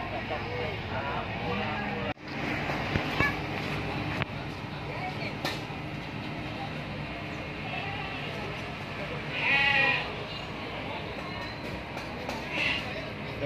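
Goats and sheep at the Jambangan livestock market near Solo call out in occasional short bleats over a steady crowded din of chatter and background traffic.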